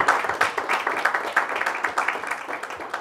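Steady applause from an audience at a book launch for The Secret Law of Blessing, a dense, even patter of many hands clapping at moderate volume throughout.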